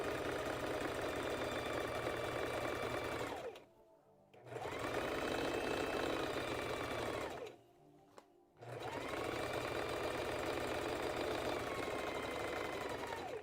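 A sewing machine stitching a Valentine's Day dress made from McCall's pattern M8383 along a chalk line, running in steady loud bursts of rapid mechanical whirring, twice pausing briefly before starting up again.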